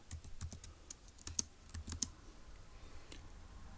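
Quick bursts of typing on a computer keyboard, a run of close, crisp key clicks in an irregular rhythm with a few sharper taps, heard alone with no talk.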